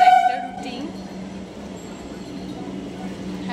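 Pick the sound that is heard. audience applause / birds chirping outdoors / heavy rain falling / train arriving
train arriving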